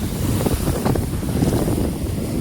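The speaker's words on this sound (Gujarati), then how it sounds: "બહુ જ મોજા મારે છે." Sea waves surge and wash in under heavy gusting wind that buffets the microphone, a dense, continuous roar close by with no talk.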